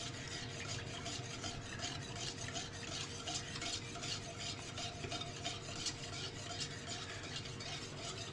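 Milk with vanilla custard powder is stirred briskly and steadily in a pan over low heat, making a continuous rhythmic scraping swish, close but quiet.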